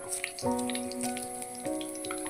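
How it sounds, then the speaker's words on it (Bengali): Cardamom and bay leaf drop into hot oil in a kadai for a mustard-paste fish curry, crackling and spitting in soft bursts of sizzle over a steady tonal hum in the background. "তেলটা গরম হলে এর মধ্যে আমি দিয়ে দেব এলাচ তেজপাতা"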